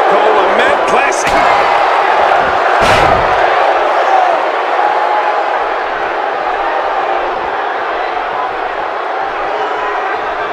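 Virtual arena crowd at a WWE 2K17 wrestling match, a loud, steady roar of cheering that holds at fever pitch throughout, with a few thuds near the start.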